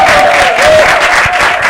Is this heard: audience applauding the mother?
yes